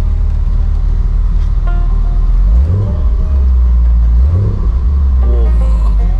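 A Jeep CJ7 rebuilt as a Wrangler, fitted with a bored-out exhaust, idles with a deep, loud rumble and is revved twice in short surges close by.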